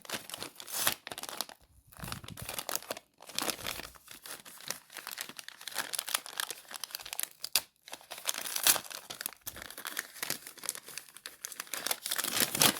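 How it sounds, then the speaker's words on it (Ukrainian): Paper sticker being peeled and torn open, with steady crinkling and tearing rustle running close and continuous throughout, broken by a few short pauses. "Насправді дуже не хочеться рвати цю бумажечку, цей папірець, це наліпка."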